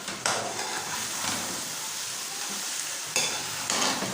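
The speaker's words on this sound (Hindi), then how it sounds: "बस थोड़ी सी भुनाई करेंगे" Potato and peas curry frying in a pan, a steady soft sizzle under repeated stirring and scraping, with a few louder spoon strokes against the pan, close but fairly quiet.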